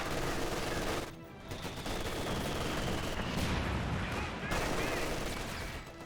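MG4 machine gun fire from a battle in Company of Heroes 2 comes as loud, dense bursts of rapid shots mixed with other gunfire, with a brief lull after the first second.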